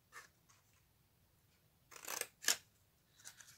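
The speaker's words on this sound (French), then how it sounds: "on coupe à chaque angle, jusqu'à la pliure." Scissors snip through paper at the corners of a gift pouch, cutting up to the fold, in a few short, faint crisp cuts with soft paper rustling around them in a quiet room.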